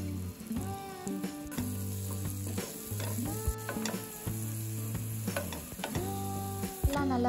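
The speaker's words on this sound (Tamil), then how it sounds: "வெங்காயம் தக்காளி எல்லாம் நல்லா வதங்கின அப்புறமா மஞ்சத்தூள், மிளகாய்த்தூள், கரம் மசாலா, உப்பு சேர்த்துட்டு நல்லா வதக்கி விட்டுடலாம்." Onion, tomato, turmeric, chili powder, garam masala and salt are sautéed in a pan for egg masala dosa, giving a quiet sizzle with scraping stirs under steady background music.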